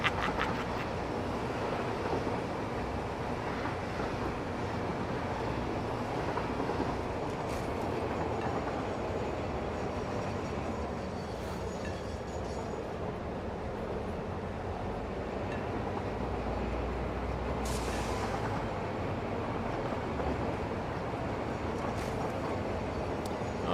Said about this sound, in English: let's get off the train